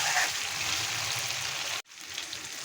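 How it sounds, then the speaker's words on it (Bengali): Taro root and potato curry sautéing in a pan, a steady loud hiss of sizzling like rain on a surface that cuts off abruptly near the end, then resumes more softly; no talk. "এখন তরকারিটা আমি ভালো করে কষাবো"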